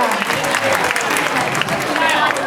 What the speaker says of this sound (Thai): ขอเสียงปรบมือพี่เก้าเลยค่ะ